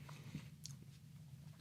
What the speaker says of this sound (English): Very crunchy, very much the nostalgia of eating a Fruit Loops type of cereal